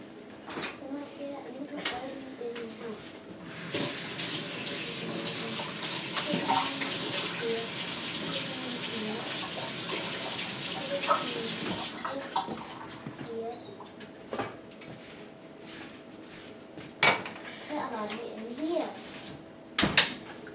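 Tap water gushes loudly from a kitchen faucet for several seconds during rinsing, then stops, followed by quieter clatter and handling noises while someone talks throughout.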